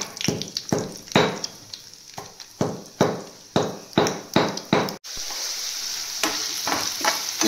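Oil sizzles in a pan while an omelette is being made, with a run of sharp utensil knocks and clatters over the first half, then a steady frying hiss with a few lighter taps.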